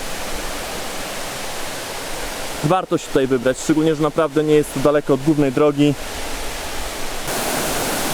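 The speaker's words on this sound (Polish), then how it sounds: "Jak Ci się podoba ten wodospad?" A waterfall on Koh Samui roars as a steady, broad rushing wash throughout, loud and close, with a person speaking over it for a few seconds in the middle.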